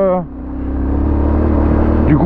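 An off-road motorcycle ridden over deep gravel holds a loud, steady mid-pitched engine drone at close range, with a shift in pitch at the start and a rev at the end; a rider's voice comes through briefly.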